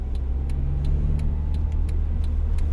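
A Honda Fit (GE8) car driving, heard from inside as a steady low engine and road rumble with faint repeating ticks, continuous and even throughout.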